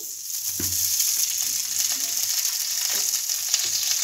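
Two spoons of ghee heat in a hot frying pan with a steady, bright sizzle and a few soft clinks and stirs underneath, close and continuous with no voices.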